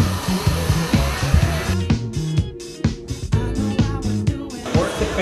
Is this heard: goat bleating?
no